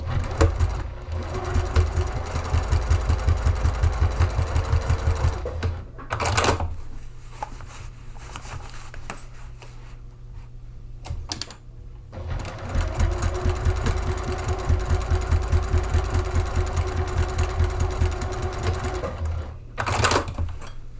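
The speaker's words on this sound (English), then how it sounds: "I am back stitching to reinforce." Sewing machine back stitching to reinforce a seam on the exterior of a rain jacket, running in steady rapid bursts with a pause around the middle and a brief stop near the end, loud and close with no talk.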